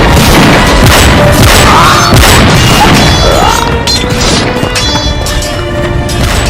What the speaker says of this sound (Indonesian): Mereka tembak.